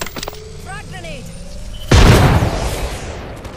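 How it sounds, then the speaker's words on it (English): A frag grenade goes off in the Apex Legends video game with one sudden, loud boom that rolls into a fading rumble. A brief game voice comes just before it. "Frag grenade!"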